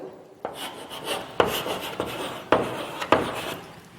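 Writing being rubbed off a classroom board, heard as close, scratchy rubbing strokes in an uneven rhythm, with several sharper scrapes standing out.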